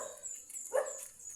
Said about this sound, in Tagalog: Parang may nag-aantay dalawang aso sa atin.